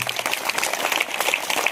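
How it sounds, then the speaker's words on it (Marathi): An audience of students and guests at a Zilla Parishad Marathi school event applauds a donor who gave cupboards and clothing, a continuous, busy wash of clapping hands throughout. "खरोखर अशा व्यक्तिमत्वासाठी एकदा जोरदार टाळ्या वाजवूया आपण."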